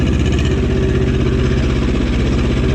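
A Cub Cadet 128 diesel garden tractor engine runs steadily in third gear after a clutch replacement, a loud, even low chugging with a constant throb and no voices.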